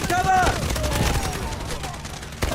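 Gunfire in the mobile first-person shooter Garena Delta Force: a dense, continuous crackle of rapid shots with a sharp louder report near the end, close and loud.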